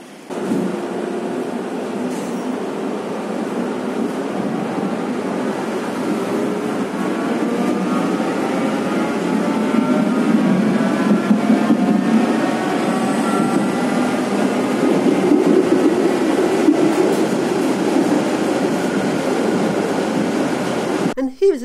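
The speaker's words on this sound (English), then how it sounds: "so we go on our first tram. And they've got these really nice 1970s trams," A 1970s tram riding through Warsaw gives a steady, loud rolling rumble with rising and falling whine from the motors and wheels, continuous and close throughout.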